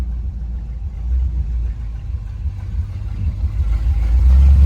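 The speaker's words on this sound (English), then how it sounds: "We also have really good brakes with this car. I'll demonstrate for you now." A 1956 Chevrolet Bel Air rumbles along at low speed, its engine a steady deep drone that swells louder toward the end, heard close and alone without talk.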